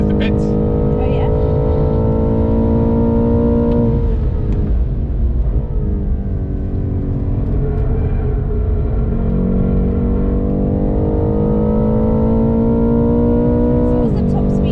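A BMW M8 lapping the Silverstone GP circuit, its engine droning steadily and loudly throughout, with pitch swells and dips as it accelerates and lifts, heard from inside the car while people talk over it.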